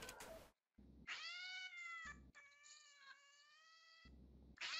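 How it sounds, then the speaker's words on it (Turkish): A cat meows and caterwauls in long, wavering, rising-and-falling yowls, fairly close and alone, with brief bursts of other noise at the start and end, set during a GTA 5 role-play game session. "Aha kedim çıldırdı."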